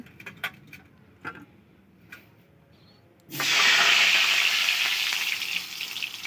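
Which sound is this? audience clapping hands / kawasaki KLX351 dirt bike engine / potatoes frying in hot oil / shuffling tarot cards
potatoes frying in hot oil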